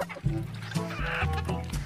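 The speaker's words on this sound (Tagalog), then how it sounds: "Ang alagang manok." A pet chicken clucks close by, a quick series of four or five short, throaty clucks in a loose rhythm with no one talking.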